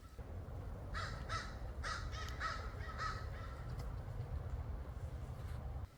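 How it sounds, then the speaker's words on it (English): Crows caw several times in quick bursts at mid distance, heard near a golf course area over a steady low background rumble. "You can hear crows cawing in the background."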